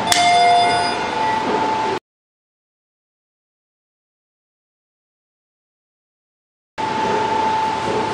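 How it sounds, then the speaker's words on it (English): The emergency bell of a 2015 Schindler 330A hydraulic elevator rings in a loud clanging burst, then cuts to silence before a second ringing stretch, close and alone. "Ring the bell."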